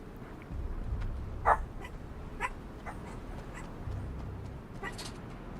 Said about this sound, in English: y'all get used to the doggies. They're barking at the housekeepers.